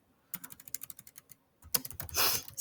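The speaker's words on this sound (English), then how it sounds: "So I'm going to type that one here." Keys clatter on a computer keyboard in two quick runs of close, crisp taps separated by a short pause, with a louder rustle at the end.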